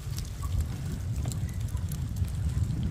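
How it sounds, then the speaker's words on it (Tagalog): Strong wind blows outdoors as a steady low rumble of microphone buffeting, loud and continuous, with faint rustling on top. "Ang lakas ng hangin."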